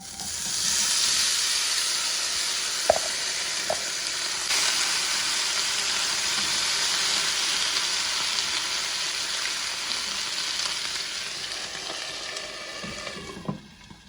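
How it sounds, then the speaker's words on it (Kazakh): Potatoes frying in a pan make a steady, close, broadband sizzle that holds evenly throughout, with a couple of sharp utensil taps and a clink near the end. "Енді картопты қуырып аламыз."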